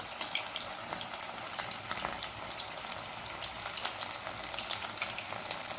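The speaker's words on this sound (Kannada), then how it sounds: "ಪಟ್ಟು ಪಟ್ಟು ಅಂತ ಇತ್ತು ಕರಿಬೇವು" Curry leaves crackle and sizzle in hot oil while frying for a kabab dish, a steady dense hiss with scattered sharp pops, fairly quiet and without talk.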